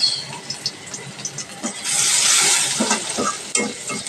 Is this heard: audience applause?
no